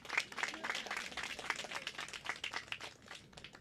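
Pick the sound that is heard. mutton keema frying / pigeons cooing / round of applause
round of applause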